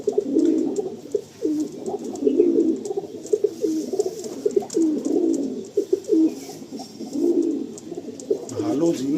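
Andhra pigeons coo repeatedly at close range in a soft, rolling, overlapping chorus that continues steadily throughout, with faint human sounds in the background.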